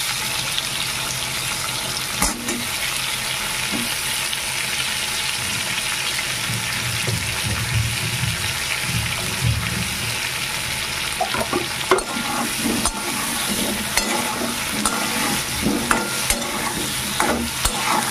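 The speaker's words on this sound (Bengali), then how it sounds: "পেঁয়াজ মরিচের সঙ্গে ওলগুলো ভালো করে ভেজে দেবো" Chunks of elephant foot yam fry in oil with onion and chili, giving a steady loud sizzle with repeated scraping and stirring clatters from the pan throughout, and no voices.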